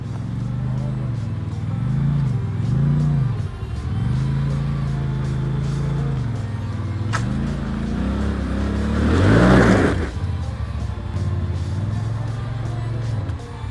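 An off-road vehicle engine in the Bradshaw Mountains drones and rises in pitch, then surges into a loud full-throttle rev before settling back to a steady hum.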